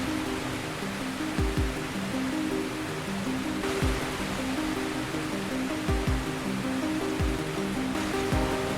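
Rain falls steadily at night, a constant soft hiss with a low hum and a few dull thumps underneath, no voices.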